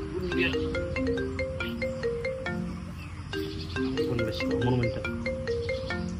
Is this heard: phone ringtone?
yes